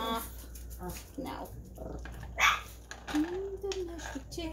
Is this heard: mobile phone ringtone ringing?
no